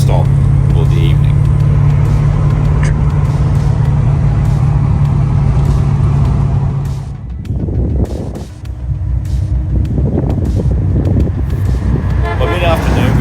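A Nissan R32 GTR Skyline cruising along country roads in the Victorian High Country, a loud steady engine drone and road rumble that dips briefly before building again, with speech over it.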